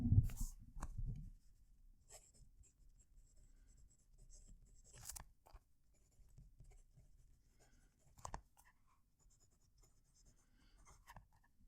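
A fountain pen writes on thin Tomoe River paper in a notebook, giving a very faint, close scratching that runs on and off. A few soft page or handling bumps sit among the strokes.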